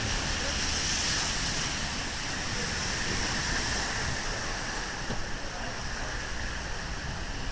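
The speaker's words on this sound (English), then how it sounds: "I can't even cross the road because it's a torrent of water." Torrent of rainwater rushing through a street, a loud, steady broadband roar of flowing water mixed with wind buffeting the microphone, continuous with no pauses.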